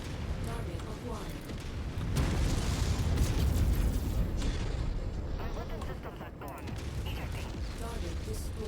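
Explosions destroying targets in the mech combat game MechWarrior 5, a dense rumbling blast swelling loud around the middle and holding as a continuous roar of booms and debris.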